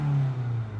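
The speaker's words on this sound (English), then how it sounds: "watch this, even when I rev it" A 2015 Dacia Logan MCV 1.5 dCi diesel engine with a particle filter pressure sensor fault holds a steady low drone that sags slightly as the revs ease off, heard alone and close.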